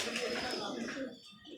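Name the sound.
pigeons cooing on a rooftop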